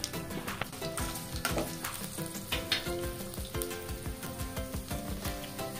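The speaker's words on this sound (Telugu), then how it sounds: "అలాగే చిన్నులపాయ రెబ్బలు వేసుకోండి." Garlic cloves sizzle and crackle in hot oil alongside dried red chillies and tempering seeds for Andhra gongura chutney, a steady close frying hiss with frequent sharp pops and stirring clatter throughout.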